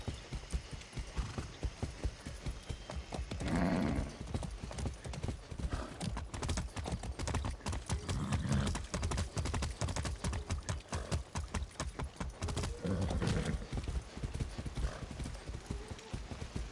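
Steady rapid hoof clip-clop of a galloping horse in Far Cry 6, loud and continuous throughout, with a few snorting whinnies breaking through near the start and middle.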